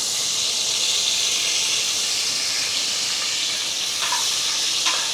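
Green chillies dropped into hot oil in a pan for mutton kabsa, giving a loud, steady hiss and crackle that fills the whole stretch, with a couple of brief brighter spits near the end.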